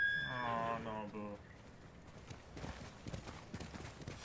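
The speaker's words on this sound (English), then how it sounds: "My Nobu, my beloved horse." Horse hooves clip-clop at a steady gait in the video game Ghost of Tsushima, faint and rhythmic after a brief musical or vocal tone at the start.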